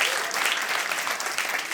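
Comedy club audience applauding at a dark-humour stand-up night, a steady wash of many hands clapping close by for under two seconds, with no talking over it.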